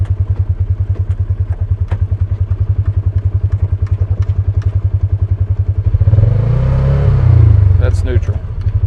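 Vehicle engine chugging in low gear with a steady rapid throbbing pulse, loud and close, swelling louder near the end as it works harder.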